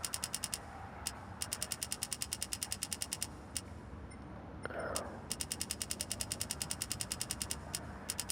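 Small gears in a homemade gear-ratio transmission are turned and spaced, giving fine rapid clicking and ticking in bursts with a short scraping shuffle midway; faint, close and without speech.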